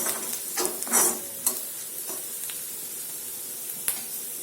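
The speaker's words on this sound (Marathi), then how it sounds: "इथे कांदा व्यवस्थित मऊशी शिजला बघा" Onion fries in a pan while being stirred, with a steady close sizzle and several scraping stirs, and no talk.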